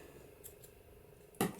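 A single quick snip of scissors cutting paper for a handmade Christmas card, close and crisp, coming near the end after a quiet stretch with a couple of faint light ticks.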